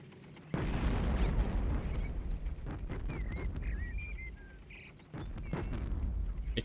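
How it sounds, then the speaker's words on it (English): Explosions booming in the WWII shooter game WWII GI, heard as a couple of low, rumbling blasts with crackling debris and scattered smaller pops, moderately distant and without talk. "Explosions in this game, like the radius is massive as well."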